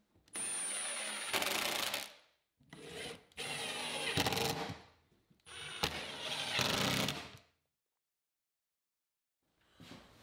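A power drill drives 1.25-inch screws into the back panel of a wooden bookcase, three or four close, whirring bursts of a few seconds each with short silent gaps between them.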